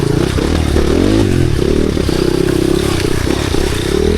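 An enduro motorcycle engine drones loud and close on a trail, its pitch rising and dipping as the rider works the throttle, with rattling and scraping over rough ground throughout.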